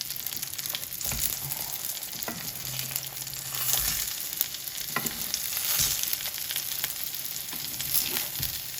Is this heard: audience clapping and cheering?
no